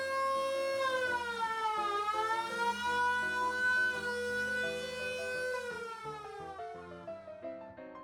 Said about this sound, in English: this old police car is in the process of being restored, but the lights and sirens still work